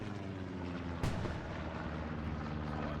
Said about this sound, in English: That artillery smashing down.